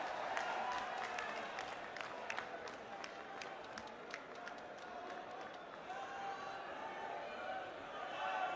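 A crowd applauds a speaker at a political rally, steady clapping held at a fairly faint, distant level for several seconds, with a little cheering mixed in.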